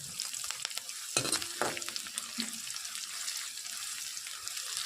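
Onion, cumin seeds and green chilli fry in hot oil for a mixed vegetable dish, a steady close crackling sizzle with a few louder bursts and scrapes as the pan is stirred.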